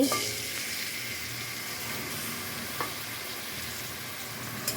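Dried loitta fish sizzles in mustard oil in a wok, a steady close crackling hiss that runs throughout with a couple of faint clicks.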